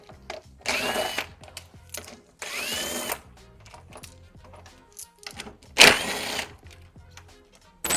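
Impact gun zipping out the bumper fixings along the top edge of a BMW M3 front bumper, several short whirring bursts with pauses and light clinks between them, close and fairly loud.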